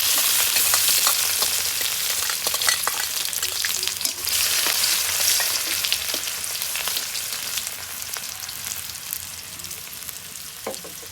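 Chopped garlic and whole panch phoron spices sizzle and crackle in hot oil, a bright continuous frying hiss with scattered pops and occasional stirring scrapes, gradually settling slightly quieter.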